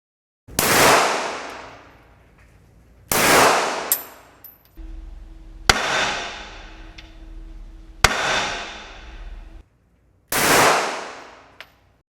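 Five single shots from a Glock 19 handgun at a shooting range, each a sharp loud crack with a ringing decay, spaced a couple of seconds apart and heard alone without talk.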